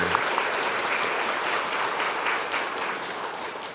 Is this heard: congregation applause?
yes